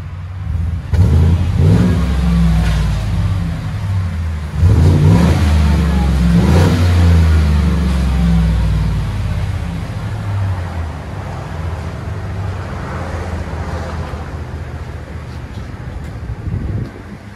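A 2015 GMC Sierra pickup with a 5.3L V8 and Magnaflow dual exhaust with 18-inch muffler and 4-inch stainless tips revs up loudly in two strong bursts, then settles into a deep idle rumble with some wind noise.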